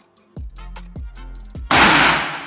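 Predator Mini PCP air rifle being fired, a few sharp mechanical clicks and clacks of the action followed by one loud, abrupt shot that decays over about a second.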